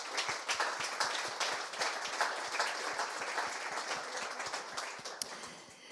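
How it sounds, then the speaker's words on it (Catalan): An audience at a talk on art and science projects claps steadily for several seconds, dense and even applause with sharp individual claps, heard from slightly back in the hall. "per favor, un aplaudiment."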